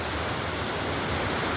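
A small river flows in a steady, even rush of water, broadband and continuous at close range with no voices.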